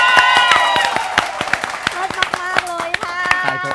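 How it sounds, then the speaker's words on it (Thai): On a Thai TV variety show, an audience claps in a sharp, regular rhythm, each distinct hand strike cutting through voices and tonal backing sound underneath. "ขอเสียงปรบมือนิดนึงค่ะ"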